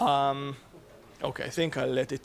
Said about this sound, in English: I cannot compete with a pigeon.